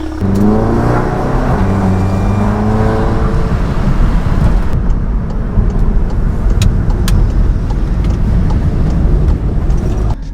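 A car engine revs up, its pitch climbing, then settles into a loud, steady roar heard from close by.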